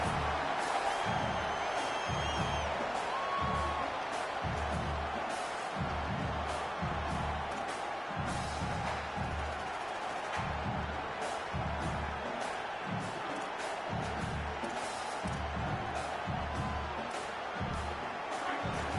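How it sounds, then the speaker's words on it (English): A large stadium crowd in a college football video game, Michigan vs USC, roars continuously, a dense wall of cheering and noise that stays loud throughout with a rhythmic low thumping underneath. "Listen to this crowd just shaking the girders of this place, trying to help their defense."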